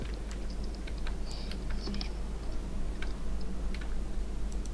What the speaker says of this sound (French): t'excites pas trop sur ton clavier parce que là ça fait mal aux oreilles